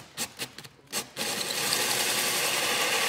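Several short scraping bursts, then a small drill whirs steadily into roof wood while routing solar wiring, a continuous grinding buzz at close range that holds for the rest of the clip.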